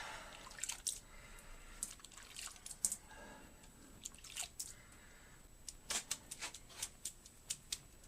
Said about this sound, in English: Put some water on here first.